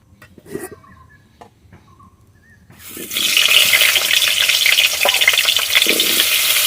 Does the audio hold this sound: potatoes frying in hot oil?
yes